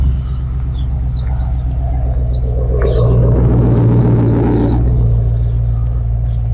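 A Ford AU XR8 V8 rated at 220 kW idles with a deep, steady rumble close by, then blips into a brief rev that swells and settles back to idle.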